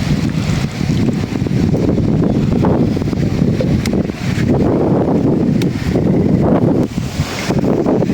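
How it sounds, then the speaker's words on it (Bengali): Strong outdoor wind buffets the microphone in steady, loud rumbling gusts beside an outdoor cooking stove, with no speech over it. "আজকে যে বাতাস, আজকে ভিডিও খুব একটা মানে ভয়েসগুলো খুব একটা ভালো শোনা যাবে না মনে হয়"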